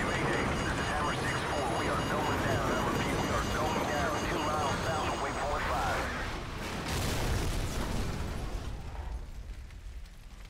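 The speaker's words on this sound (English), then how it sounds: "Incoming missile!" An incoming missile detonates in Modern Warfare, with a sustained, loud roaring blast and rumbling debris that fill the scene, then slowly fade into a ringing hush. Voices shout over the chaos.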